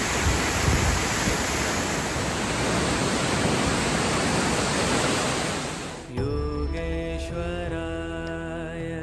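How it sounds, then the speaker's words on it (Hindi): A mountain trail waterfall on the Madmaheshwar pilgrimage route, part of the Panch Kedar Yatra, roars as a loud, steady broadband rush for about six seconds before it gives way abruptly to sustained tonal music. "तो रास्ते में झरना मिलेगा,"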